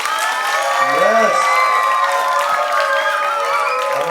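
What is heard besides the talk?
applause from the audience and children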